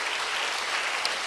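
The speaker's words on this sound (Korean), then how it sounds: "박수로 주님께 영광 돌립니다" Congregation applause during a Sunday church service, a brief, dense wash of clapping with no voices.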